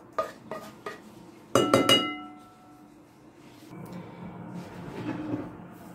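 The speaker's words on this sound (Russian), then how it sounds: "Обжаренные шампиньоны перекладываем в посуду" Utensils clink sharply against a dish in a few quick knocks, then a softer scraping and shuffling of fried mushrooms being moved.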